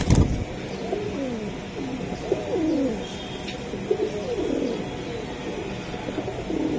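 Pigeons, including breeding pairs at a loft, coo in a series of rolling, close calls over a few seconds, with a low background hum and occasional faint chirps, no talking.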